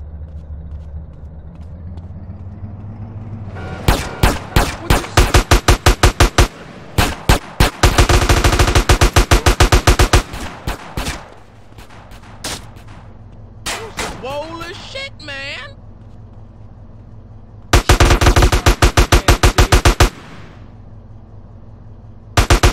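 Rapid machine-gun and gunshot bursts crackle through a GTA San Andreas gang war, loud and close, in long repeated volleys over a low engine rumble, with quieter gaps and a voice speaking between them.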